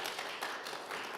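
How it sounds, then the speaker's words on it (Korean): Audience applause for a professor's case presentation at a seminar of the World Korean Business Convention, a steady dense wash of many hands clapping in a hall, moderately loud and without voices. "다시 한번 정가빈 교수님께 큰 박수 부탁드립니다"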